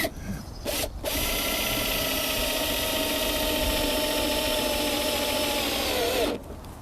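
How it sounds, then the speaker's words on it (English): A power drill drives set screws into an RV awning fitting, whirring steadily and loudly for several seconds after a short start-stop burst, then cutting off. "let me get a couple of set screws in here"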